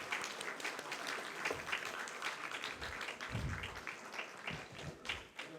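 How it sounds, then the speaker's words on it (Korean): Congregation applauding during a church service, scattered hand clapping that is fairly faint and distant, steady across the span with a few louder thumps. "우리 박수로 쳐주십시오."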